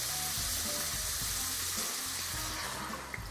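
Steady, loud sizzling and crackling of a splash of water hitting a hot frying pan of gnocchetti sardi with artichokes, a continuous hiss with faint clinks underneath.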